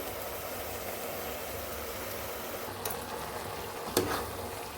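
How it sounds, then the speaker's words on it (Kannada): Ground masala paste fries in oil over a medium flame while being stirred, a steady close hiss of sizzling broken by a couple of soft stirring scrapes. "ಎಣ್ಣೆಲೆ ಹುರ್ಕೋಬೇಕು ಈಗ ಇದಕ್ಕೆ ರುಬ್ಬಿಟ್ಕೊಂಡಿರುವಂತಹ ಮಸಾಲೆನ ಸೇರಿಸ್ಕೋಬೇಕು"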